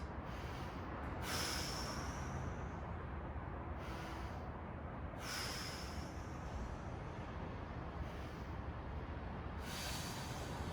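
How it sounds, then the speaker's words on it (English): Slow, deep breaths during a yoga spine stretch, roughly four long airy inhale-exhale cycles spaced evenly, close and fairly quiet, with no talking. "Let's take 5 big deep breaths."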